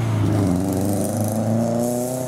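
A Subaru revs as it pulls away from a car show, its engine climbing steadily in pitch over two seconds, loud and close with no talking.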